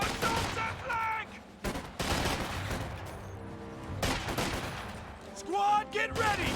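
Battlefield gunfire crackles through a Company of Heroes 2 match, rifle and machine-gun bursts rising and falling across several seconds amid shouted in-game voices and other combat noise.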